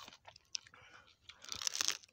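Close, faint crunching and chewing of crab at a riverside picnic in the Sundarbans, with a few soft bites and crackles in quick succession and louder crunches toward the end.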